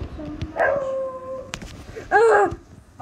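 A pet dog gives two drawn-out, rising and falling howls, close and fairly loud, with a short gap between them. A person's speech overlaps the howling.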